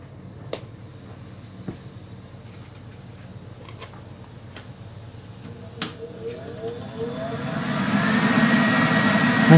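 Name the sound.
TIG welding machine running, gas solenoid activating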